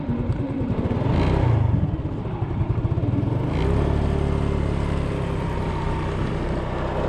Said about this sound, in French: on va remonter sur la moto.